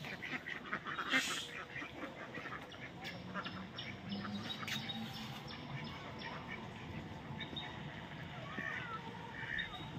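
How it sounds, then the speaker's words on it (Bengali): Ducks and small ducklings in a Bangladeshi village give scattered quacks through steady outdoor background noise, with the calls fairly faint and mixed with general ambience and occasional voices. "কত সুন্দর হাঁস, ছোট ছোট হাঁসগুলি, বাচ্চাগুলি।"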